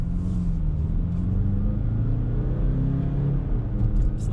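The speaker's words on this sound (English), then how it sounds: "Let's floor it." A 2019 Range Rover Velar D180 diesel SUV accelerating at full throttle, its engine droning with a steady rising note and a low rumble heard from inside the cabin, with no talking.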